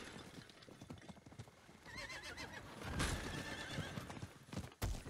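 In Diablo IV, a summoned horse arrives with a rapid clatter of hooves building up, then a loud whinny mid-clip and a snort at the end, close by over game ambience.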